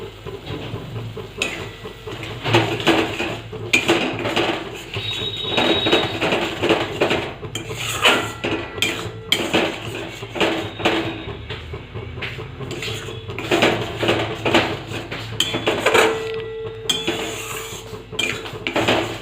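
Spice masala for an egg curry with potato and cauliflower, fried in a pan and stirred steadily, the utensil scraping and clinking against the metal in a continuous rhythm close by, with no talking.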